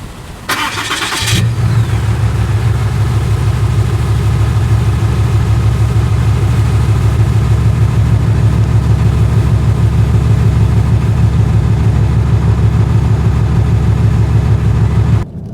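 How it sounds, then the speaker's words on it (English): 2022 Ram 2500 with a 6.7-liter sixth-generation Cummins diesel, cold started with a brief cranking burst that catches into a loud, steady, low clattering idle held close up until the end. "This is 6th generation Cummins cold start."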